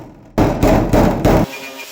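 A hammer flattens puckered aluminum sheet around screw holes on the baggage door of a 1949 Spartan Manor vintage camper, giving four quick, close, solid thuds in a row.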